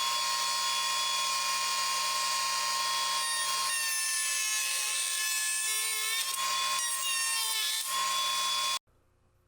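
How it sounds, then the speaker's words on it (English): A router table with a 45-degree tapered bit cuts an angle into wood, a steady high whine that rises into a harsher cutting scream as the piece feeds through, then stops abruptly. "At the router table, I use a 45-degree tapered bit to make a nice sharp angle in both sides of the triangle"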